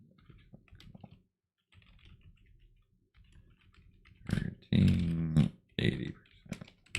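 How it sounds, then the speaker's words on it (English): Fingers type on a computer keyboard at close range, with quiet irregular bursts of key clicks separated by short pauses. A voice speaks briefly toward the end. "Okay, I'll type it here."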